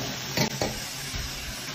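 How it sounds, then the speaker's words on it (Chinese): Fried crayfish are stir-fried in a wok with chili oil, a close, steady sizzle broken by a couple of quick scraping tosses of the spatula against the pan. "翻炒个五六七八下"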